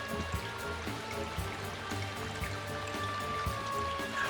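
Steady video game rain patters over a continuous low hum, soft irregular drops throughout with occasional small thumps, from the game Mark of Kri.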